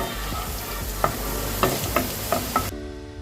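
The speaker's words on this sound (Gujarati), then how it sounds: "હવે આપણે એને મીડિયમ ફ્લેમ પર જ સાતળી લઈશું." Green chillies sauté over a medium flame for paneer chilli dry, making a steady close sizzle broken by several distinct clicks of a spoon stirring in the pan. The sound cuts off abruptly near the end.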